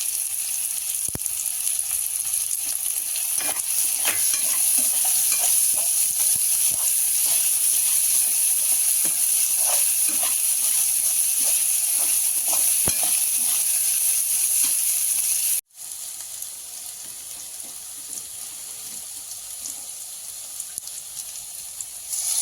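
Crushed garlic sizzles and hisses steadily in hot oil in a pan while cooking sambar, a loud close frying sound that briefly cuts out and then continues more quietly.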